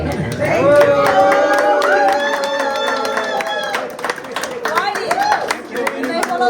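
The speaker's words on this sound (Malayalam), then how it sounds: "എല്ലാവരും കൈയടിച്ച് ഗൈഡിനെ അഭിനന്ദിച്ചു." Tourists applaud their cave guide in South Africa, a burst of scattered hand claps from a small group close by, mixed with voices talking over it.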